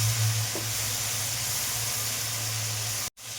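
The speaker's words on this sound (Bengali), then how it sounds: "এবার এইটাকে ভালো করে তেলের সঙ্গে নাড়িয়ে নেব।" Poppy seed, cashew and chili paste frying and being stirred in plenty of oil, a steady close sizzle and hiss that runs throughout before cutting out briefly near the end.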